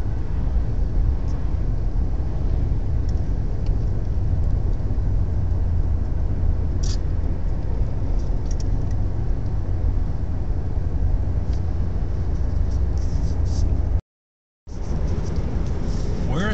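A car cruises along a road down from coastal mountains toward the Klamath River, a steady close rumble of engine and road noise filling the interior, with a brief dropout near the end.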